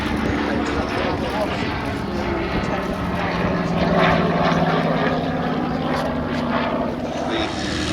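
An ex-Spanish Air Force Buchon fighter flies at the Duxford Battle of Britain air show, giving a steady, loud piston-engine drone with a slight swell in the middle. Commentary and crowd noise run beneath it.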